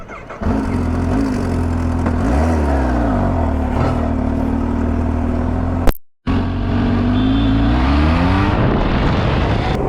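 Superbikes riding on the road to Chakrata give a steady, loud engine drone with rising and falling revs, briefly cut by a short dropout before the engine note returns and climbs again.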